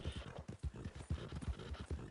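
Horse hooves gallop in Red Dead Redemption 2 Online, a quick, even drumming of close, punchy hoofbeats with no pause, alone and without talk.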